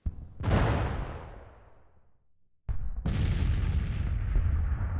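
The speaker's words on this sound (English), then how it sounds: "it looks like our cannons are already firing" Cannon artillery fires in the battle game Grand Tactician: a loud, close boom that rolls off over a second or more, then after a short silence a second sharp report and a sustained rumbling barrage.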